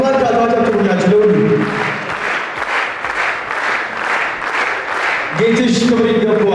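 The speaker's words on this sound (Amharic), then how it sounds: "እባካችሁ አጨብጭቡላቸው ለሁሉ።" An audience at a celebration marking a veteran artist's 68th birthday claps in a loud, steady burst of applause lasting several seconds, framed by an announcer's amplified voice before and after.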